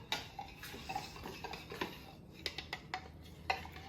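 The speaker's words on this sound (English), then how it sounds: "And we give this a little stir." Homemade coffee liqueur mixed with vodka being stirred in a container, a faint series of light spoon clinks and taps against glass at an uneven rhythm, quiet and close.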